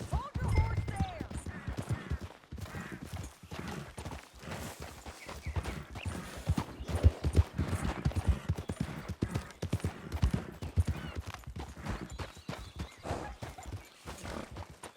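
Horse hooves clip-clop through gameplay in Red Dead Redemption 2 as a rider travels over open ground. The steady rhythm runs beneath a dense mix of wind, movement and ambient game sound.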